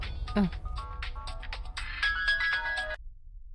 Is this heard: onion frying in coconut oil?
no